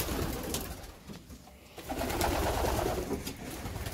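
A white pigeon near the end of its moult coos repeatedly close by, with soft rolling calls in a steady rhythm over light background noise.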